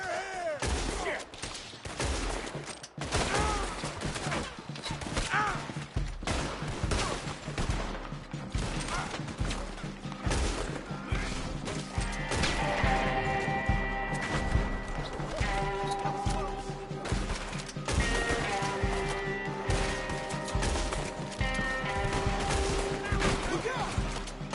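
Gunfire in Red Dead Redemption 2: repeated sharp shots and volleys crackle through a long, busy firefight, mixed with shouting voices and a low music bed.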